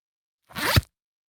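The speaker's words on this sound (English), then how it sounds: "Yeah, it's a zip." A clothing zipper is pulled in one quick stroke, about a third of a second of close, bright rasping that thickens into a heavier stop at the end, alone against silence.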